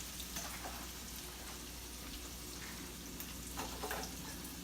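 Onions sizzle softly in a pan as they begin to sauté, a faint, steady hiss with a few light stirring scrapes. No one talks.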